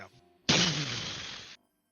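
A crystalline orb smashed on the ground, one sudden loud crash followed by a bright shattering spray of glass that rings out for about a second and then stops abruptly.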